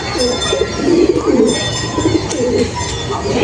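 Madras pigeons coo repeatedly nearby, a string of low burbling calls over a steady background hum, with no one talking.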